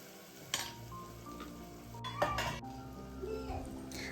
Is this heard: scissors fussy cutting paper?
no